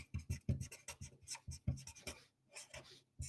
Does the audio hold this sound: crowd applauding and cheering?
no